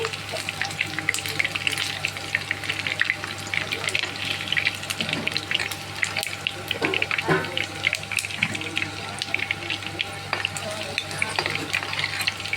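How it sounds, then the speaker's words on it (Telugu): Chicken lollipops deep-frying in hot oil, restaurant style, give a steady dense sizzle and crackle throughout with occasional stirring clatter, close and continuous, with no talk over it. "చూడండి, బాగా రోస్ట్గా వేయించుకున్నాము."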